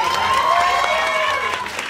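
Live comedy-show audience clapping and cheering in a steady broadband wash, with voices and tonal sounds running over the applause throughout.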